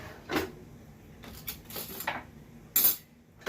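A spoon clinks and scrapes against a pan while white bacon gravy is being made, a few scattered metallic taps and rattles close by with quiet gaps between them.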